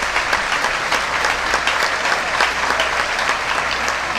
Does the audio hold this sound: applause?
yes